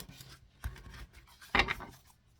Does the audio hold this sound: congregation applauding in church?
no